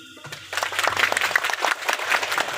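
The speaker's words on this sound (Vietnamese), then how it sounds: "Xin quý vị dành một tràng pháo tay thật lớn để chúc mừng." Wedding guests at a celebration applaud the bride and groom, a crowd's clapping swelling in after a brief quiet start and carrying on steadily and moderately loud.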